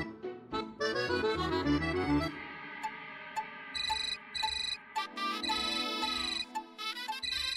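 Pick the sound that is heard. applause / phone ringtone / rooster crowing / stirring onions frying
phone ringtone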